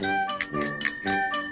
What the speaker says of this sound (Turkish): Bisikletin zili işte böyle çalar.